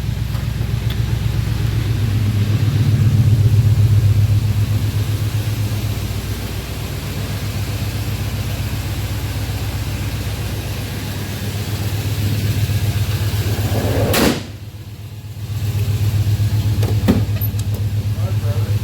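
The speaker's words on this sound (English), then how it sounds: "Let's take it for a little drive here and we'll wrap it up." A 1984 Pontiac Grand Prix with T-tops drives along, its engine a steady low rumble throughout, loud and close with a brief dip near the end.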